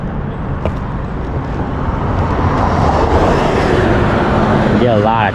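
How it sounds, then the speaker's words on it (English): Cars rolling past on a road near a campsite, a steady broad traffic rumble that swells gradually and stays loud throughout, with no clear break between vehicles. "Get a lot of traffic on this road"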